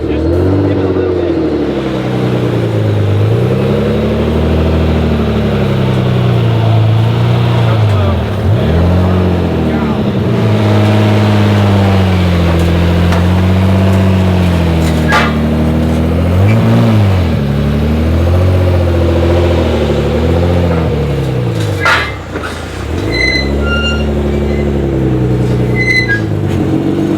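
A modified 700-horsepower Nissan 300ZX engine runs close by, idling and repeatedly revving up and down in smooth swells, with people talking now and then alongside it.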